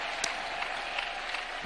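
A church congregation at a memorial service for a bishop claps together in a short burst of applause, dense patter lasting under two seconds with no one speaking over it.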